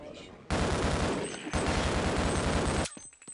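Rapid bursts of gunfire in Half-Life: two long, dense volleys of automatic shots, loud and close, with a short gap between them and a sparse tail at the end.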